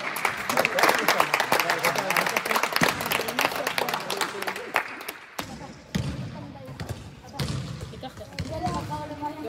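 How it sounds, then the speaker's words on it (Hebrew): An audience at a sports team gathering claps in a dense, lively burst of applause that later thins into scattered clapping and crowd murmur, with a voice talking over it. "קודם כל כפיים לעובדי איתנו"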